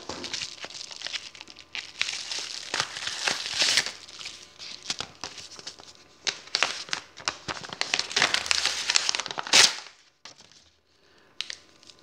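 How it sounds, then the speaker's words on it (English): A package is cut open and torn up close by, giving a busy stretch of sharp crackling, crinkling and snapping bursts that stops abruptly, leaving near silence. "Just cut this open here."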